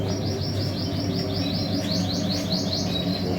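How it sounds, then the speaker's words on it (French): Canaries and goldfinches chirp in quick repeated high tweets, a steady run of bright calls over a constant low background hum. "Donc, je ne sais pas si vous voyez, mais les oiseaux vont bien."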